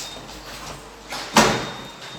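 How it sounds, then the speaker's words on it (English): Jacksons-modernised car park lift at Cardiff Heath Hospital, a 10-person 750 kg unit, its doors sliding shut: a quiet rising slide ending in a sharp, moderately loud thud as they meet, then a faint lingering hum. "Please mind the doors. Doors closing."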